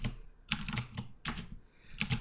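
Quick bursts of keystrokes on a computer keyboard entering a change-directory terminal command, clicky and close, in short clustered groups with brief pauses between.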